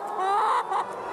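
A hen on an organic farm in the canton of Fribourg, Switzerland, clucks in a short, close burst of throaty calls with a brief pause between them.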